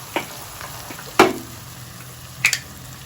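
Ground cumin and coriander fry in a pan for chicken keema tadka, with a faint steady sizzle and a few sharp clicks of a spoon scraping and stirring, close and quiet with no talking.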